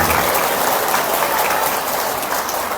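Loud, dense audience clapping at an Islamic religious gathering, a continuous crowd applause filling the whole moment without pause.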